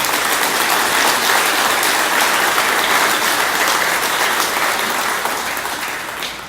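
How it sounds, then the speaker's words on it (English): A crowd applauds steadily at a Ford dealership grand opening, dense clapping holding loud for several seconds before thinning slightly at the end, with no talk over it. "So let's give all these folks a nice round of applause."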